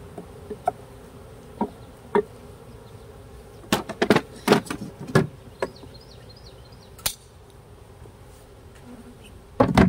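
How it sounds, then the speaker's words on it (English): Honey bees buzz inside a swarm cell split hive, a thin wavering drone broken by sharp close clicks and knocks from the hive frames, louder in a cluster midway and again at the end. "Hear that? Or just some loose bees?"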